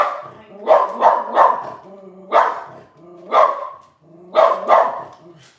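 A dog barks at other dogs passing outside the door, loud and close, in three bursts of two or three sharp barks each with short pauses between.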